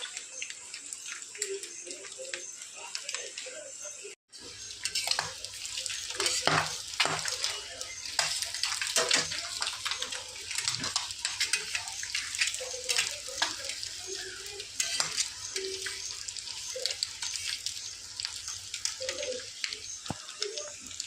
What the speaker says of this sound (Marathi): अशा प्रकारे परतून घ्यायचं तेलामध्ये